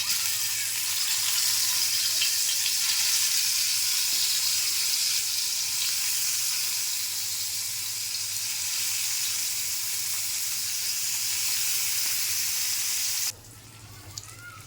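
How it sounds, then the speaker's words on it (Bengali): Koi fish fry in oil on a hot griddle, giving a loud, steady broadband sizzle that holds for about thirteen seconds and then drops away abruptly, with no voices. "এখন পরিমাণ মতো তেল দিয়ে ভাজা দিয়ে দেবো মাছটা।"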